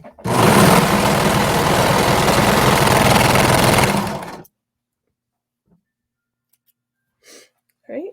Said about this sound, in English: We're just going to sew along those shoulder seams.